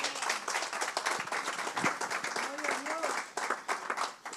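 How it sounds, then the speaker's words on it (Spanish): Applause from a church congregation after a sermon in Miami, a continuous crowd clapping with voices and cheers mixed in, fairly loud and steady throughout. "Un aplauso para Él"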